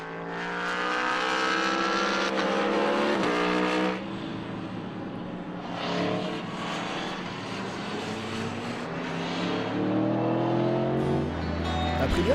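Racing motorcycles, including Aprilias, scream past one after another on a race circuit, their high engine whine rising and fading as each machine goes by at speed.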